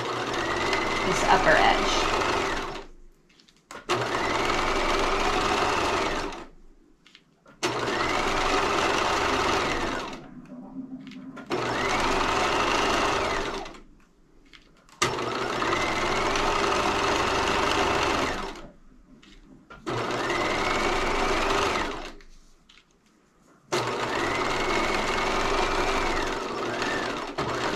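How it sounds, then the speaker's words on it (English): A sewing machine straight-stitches a quarter-inch seam around a fabric garrison hat, running in about seven long bursts with short pauses between, up close, with a voice speaking briefly during one pause. "Straight stitch. And just go for it. Stitch all the way around"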